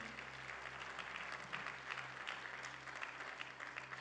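Congregation applauding in a church service, sustained steady clapping from a crowd at a distance, fairly soft with a low hum underneath.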